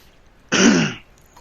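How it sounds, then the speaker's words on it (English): A single harsh cough, close and loud, bursting abruptly and lasting about half a second in an otherwise quiet room. "excuse me, 1 second, I'm gonna cough."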